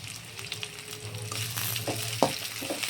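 Ginger garlic paste frying with onion and green chillies in oil for prawn curry, a close, continuous sizzle with a few scraping stirs.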